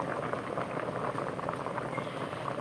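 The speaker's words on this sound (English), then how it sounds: "So, it's boiling up." A pot of live seafood boil bubbling at a steady, vigorous rolling boil, a dense continuous bubbling and hiss heard up close with no talking.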